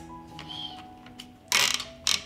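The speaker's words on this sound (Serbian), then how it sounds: "Zatvaram ekspres lonac" Lid of a 6-litre pressure cooker being shut: faint scrapes and clicks, then two sharp metallic clanks close by near the end.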